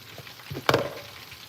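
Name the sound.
potatoes frying in a pan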